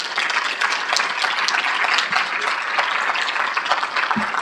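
Dense, sustained applause from an audience at a League of Women Voters event fills the space steadily, a continuous wash of many hands clapping with no pause.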